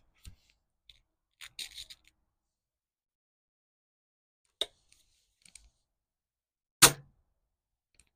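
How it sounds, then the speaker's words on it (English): A Precihole Minotaur air rifle fires Barrett pellets over a chronograph; several short sharp cracks spaced seconds apart with small clicks between, close and distinct in an otherwise quiet setting. "we'll just have 5 shots over the chrono now with the Barrett 8s"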